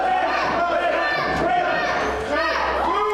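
A wrestling crowd hollers and shouts back at a wrestler in an arena, a dense, loud mass of voices with overlapping yells throughout.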